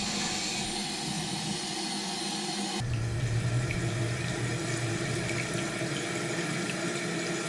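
A toilet tank refilling with water after a repair, a steady rushing and hissing flow that grows fuller and deeper partway through, heard close up with no talking.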